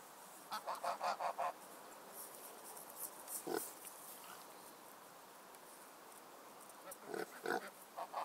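Faint, repeated grunting and honking calls from a farm animal, coming in short bursts with quiet gaps between them.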